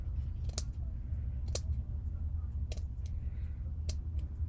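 Scissors cut through a vintage doily with several sharp, faint snips spaced irregularly over a low background hum.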